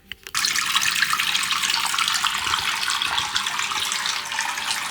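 Water rushes and splashes steadily as a part for a motorhome Starlink Mini installation is submerged to test for leaks, a continuous close hiss like a running tap.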